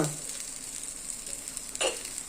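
Ingredients for kuppameni thuvaiyal sauté in a pan with a gentle, even sizzle close by, and one stirring scrape near the end.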